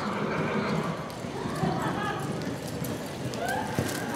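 Horse galloping during a timed ride at an equestrian event, rapid hoofbeats under continuous crowd noise and shouting voices.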